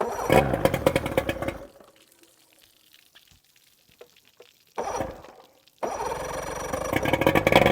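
A small two-stroke engine on a water pump, running only while kept primed, gives a rough, buzzing rattle, cuts out to near silence, sputters briefly, then roars back to a steady running note.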